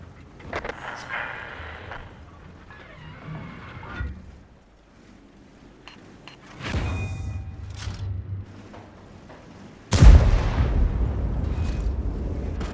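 Tank cannon fire in the World of Tanks video game, a Vz. 55 heavy tank in battle, with several loud booming shots and rumbling impacts, the heaviest blast arriving near the end.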